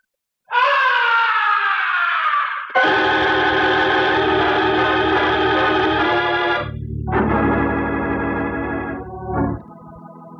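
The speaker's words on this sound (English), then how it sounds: "the opera house was pierced with a blood-curdling scream" A long, blood-curdling scream rings out in an opera house in a 1949 radio drama. Shrill, sustained wailing shrieks come in several loud, drawn-out bursts with brief breaks, alone and close.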